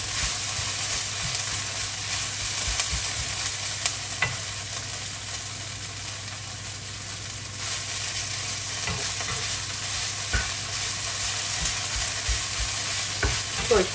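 Constant loud sizzle of liver frying in fat in a pan, with occasional clicks and scrapes of stirring, close up and without talk.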